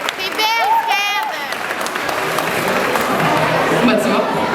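A crowd applauds at a head-shaving charity challenge event after a participant's fundraising total is announced. A voice calls out briefly at the start, then steady, dense clapping continues, mixed with cheering and background chatter.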